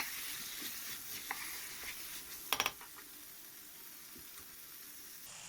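Tomatoes tipped into a hot pan while cooking a trotters stew, giving a soft ongoing sizzle with a few scraping stirs and a brief louder clatter midway.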